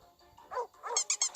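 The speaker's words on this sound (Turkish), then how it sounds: "Aa köpek." A cartoonish dog in the mobile puzzle game Save The Girl gives a short burst of quick, rising barks and yips, faint and brief, with no voice over it.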